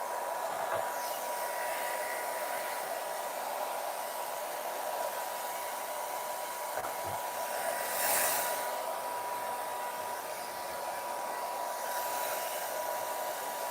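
A hair dryer runs steadily throughout, drying a craft bowl with a continuous close, loud whooshing blow that swells briefly near the middle.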